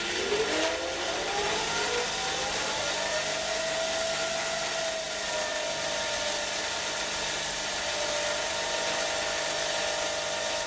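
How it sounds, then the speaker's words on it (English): A synchronous generator test rig motor spins up toward 1500 RPM, a steady loud mechanical whine rising in pitch over the first few seconds and then holding a constant hum, with no talking. "First thing I want to do is get the speed up to 1500 RPM."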